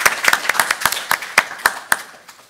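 Scattered clapping from a small conference audience, a sparse run of distinct hand claps at an uneven rhythm that thins out toward the end, fairly close with no talking over it.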